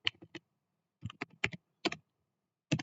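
Computer keyboard typing while writing a SQL select statement, short clustered bursts of crisp key clicks separated by brief pauses, close and quiet.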